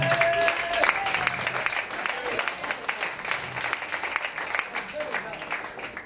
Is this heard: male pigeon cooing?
no